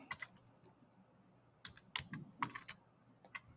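Computer keyboard typing while entering a function into Desmos: scattered bursts of soft key clicks, close and quiet, with short pauses between clusters.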